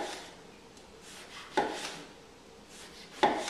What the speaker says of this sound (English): we're just simply going to slice an eggplant